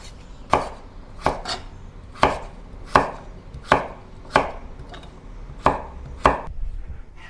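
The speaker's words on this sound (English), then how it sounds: "Give it a good wash and cut it into small cubes." A knife cuts taro into small cubes on a cutting board, giving nine crisp, evenly spaced thuds close to the listener, with no talking.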